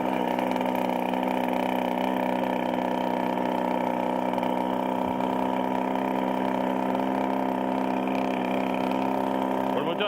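A cold moped engine fitted to a demountable bicycle runs at a steady, buzzing two-stroke drone close by, holding an even pitch throughout without revving.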